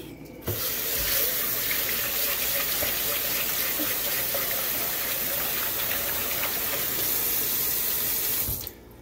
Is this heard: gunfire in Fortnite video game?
no